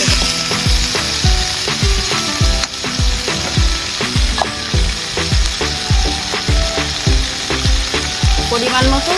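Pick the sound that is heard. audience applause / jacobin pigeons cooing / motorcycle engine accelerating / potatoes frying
potatoes frying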